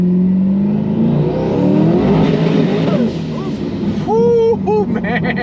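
A 1500-horsepower twin-turbo C8 Corvette accelerating hard from inside the cabin, engine note climbing loudly through the revs, then a brief gear shift and renewed surge, with a whine near the end.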